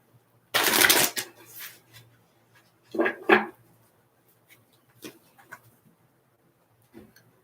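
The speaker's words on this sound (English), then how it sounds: "let me shuffle these cards here and see what we can get." Tarot cards shuffled by hand at a live reading: one loud riffling burst, then two shorter riffles a couple of seconds later and a few soft flicks and taps, close and otherwise quiet.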